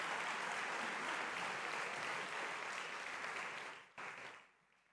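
An audience applauding a speaker at an evening event, a dense, steady clapping that fills the room for about four seconds before tapering off and fading out.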